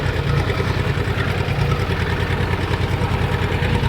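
Kentavr 244SX tractor engine running with a steady low diesel throb and even knocking pulse, close and loud, constant throughout with no talking.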